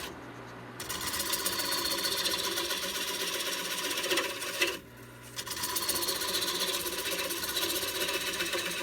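A wood lathe turns a maple bowl under heavy tool pressure, a loud continuous scraping and whirring close by with one brief break midway before cutting resumes.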